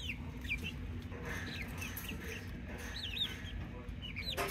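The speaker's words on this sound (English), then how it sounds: "Now I have chickens." A small mixed flock of pullet chickens feeding on papaya clucks and chirps softly at mid distance over steady low background noise, with scattered short calls throughout.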